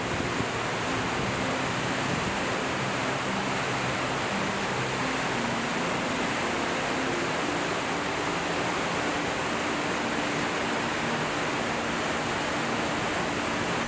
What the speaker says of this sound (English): Victoria Falls is more than a waterfall